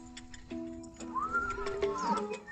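A mare with foals whinnies with a rising and falling call, heard over a steady low hum and faint stable noise; a second softer neigh follows.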